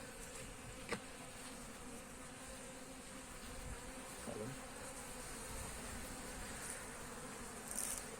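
Dense, steady buzzing of many honeybees crowded in a hive fills the whole stretch, with a few brief taps and shifts against the constant drone.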